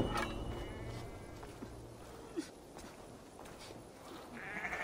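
Sheep bleating in Assassin's Creed Valhalla, a few short bleats scattered over a steady game ambience with light clip-clop hoof sounds, fairly faint and without talk.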